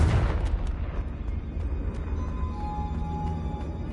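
Confringo blasting spell in the Hogwarts Legacy video game: a heavy booming explosion hits at once, then rumbles and crackles away over several seconds with scattered debris pops, and no voices.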